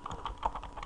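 A password being typed on a computer keyboard while setting up a TP-Link TD-W8961N router: a quick burst of about five crisp keystroke clicks, close and alone.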